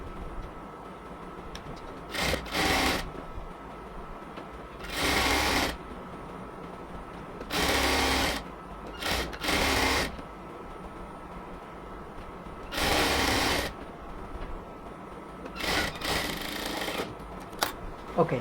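A sewing machine stitches along the very edge of a yellow cotton dress in short, repeated bursts of a second or two with gaps between, at moderate level over a continuous low background hum.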